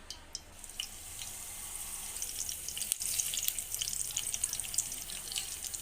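Mustard seeds and curry leaves splutter in hot oil for tempering a radish chutney, a soft continuous hiss dotted with quick pops and crackles that thicken slightly after a brief dip, heard fairly quietly with no voices.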